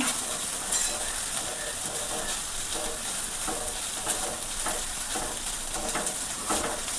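A ridge gourd and egg thoran with turmeric and chili powder is stirred in a hot pan, giving a dense, continuous sizzle with repeated scraping strokes of the spoon, close and alone without speech.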